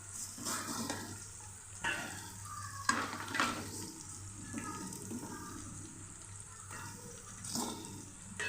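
Fried chicken pieces are stirred into tomatoes frying in oil in a pan for a chicken fry pressure-cooker pulao: steady sizzling with repeated scraping strokes of the spoon, close and fairly soft.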